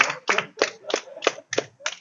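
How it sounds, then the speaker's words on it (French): Hands clapping in applause during a Valentine's Day TV broadcast, seven distinct close claps in an even, steady rhythm, fairly loud and alone with no talk over them. "Oh mais t'as applaudi ça"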